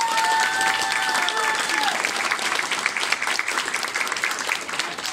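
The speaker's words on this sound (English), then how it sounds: "So please, one round of applause." Applause from a crowd at a pre-kindergarten school musical performance, dense and steady clapping throughout, loud and close, with a brief tonal whistle or voice at the start.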